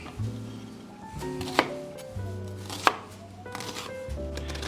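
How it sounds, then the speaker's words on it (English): An onion is cut with a knife on a board, a few distinct sharp chops with quieter slicing between them, close and fairly soft. "everybody knows how to cut up an onion, so I'm not going to spend a lot of time on this"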